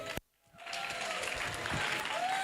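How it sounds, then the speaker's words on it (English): Crowd at an education technology summit breaking into applause after a sharp knock and a brief hush, the clapping swelling into a steady, full round. "let's have a round of applause for this group"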